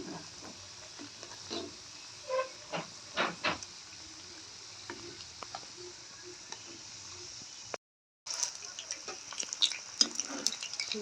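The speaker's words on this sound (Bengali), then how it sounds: "এবার উল্টায় পাল্টায় ভালো করে লাল লাল করে ভেজে নিব।" Chicken singaras deep-fry in hot oil with a soft, steady sizzle, punctuated by a few louder bubbling bursts as they are turned, followed after a brief break by a livelier crackling fry.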